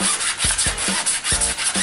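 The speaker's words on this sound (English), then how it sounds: "we're just gonna use a little sanding block and sand off some of these scuff marks as best we can" A small sanding block rubs over a scuffed car wheel rim, repeated back-and-forth strokes in a steady rhythm, close and fairly loud with no talk.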